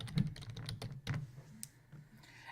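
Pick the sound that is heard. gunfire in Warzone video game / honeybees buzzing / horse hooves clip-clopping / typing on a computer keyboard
typing on a computer keyboard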